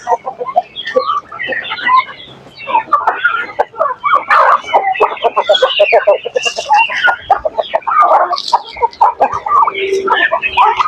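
Native chickens and Rhode Island Reds clucking busily at feeding time in a backyard coop, a dense, loud chorus of overlapping clucks and squawks that continues throughout.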